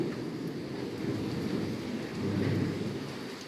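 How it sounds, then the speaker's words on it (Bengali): Thunder rumbles through a heavy storm with steady rain in Jessore, a continuous low roll that swells louder near the end over constant rainfall and some wind buffeting. "আর মেঘের ডাকটা তো শুনতেই পাচ্ছেন"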